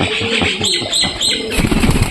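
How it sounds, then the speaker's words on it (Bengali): A pigeon flaps its wings as it lands on a hand, giving several quick close bursts of fluttering with faint soft coos in the background and no talking. "এই কবুতরটা হাতে উঠে গেল।"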